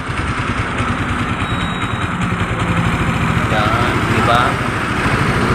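A Suzuki Rider 150 fuel-injected motorcycle engine idles steadily and close by with a continuous low throb while it is adjusted to 1,500 RPM, and someone speaks briefly over it.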